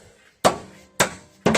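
Three sharp, heavy blows from a dead blow mallet knocking a coil spring part loose on a 1997 Lincoln Town Car, each impact ringing briefly, evenly spaced and close, with no talk.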